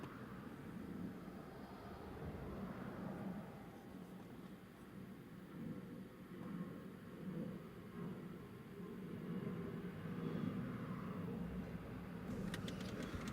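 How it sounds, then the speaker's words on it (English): An EasyJet jet climbs away after takeoff at Newcastle Airport in a crosswind, a steady broad engine roar heard from a distance across the whole stretch. "That's EasyJet up and away."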